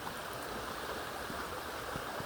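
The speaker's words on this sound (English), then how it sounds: "Mountain stream is crystal clear." A clear mountain stream flows steadily, its broad continuous rush of water filling the scene close by and even in level, with no other sounds standing out.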